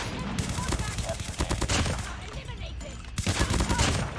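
Sustained automatic ICR rifle fire in Call of Duty Mobile rattles in dense, fast bursts, with a brief lull before another rapid volley.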